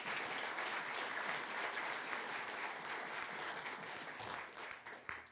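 A conference audience claps together in sustained, dense applause that holds steady and then thins into scattered claps before fading out.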